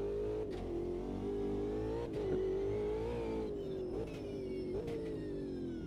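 Ultima GTR race car engine in the sim racing game Automobilista 2 at Monaco, a loud continuous engine note rising and falling with revs, punctuated by brief gear-shift dips, with no voices.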